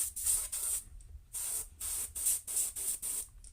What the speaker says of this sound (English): For some reason, that one wasn't spraying very well.